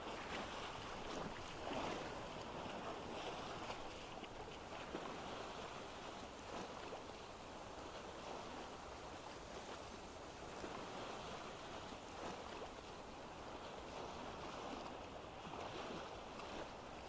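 In a survival video game, a boat sails across open water with a faint, steady wash of waves and wind and no voices.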